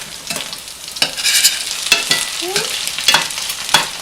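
Tuna and mackerel cakes fry in a pan, with gluten-free binding, giving a steady close sizzle broken by several sharp scraping and tapping bursts as a spatula works under them, no talking.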